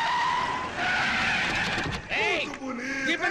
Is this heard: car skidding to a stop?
yes